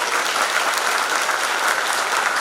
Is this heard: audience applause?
yes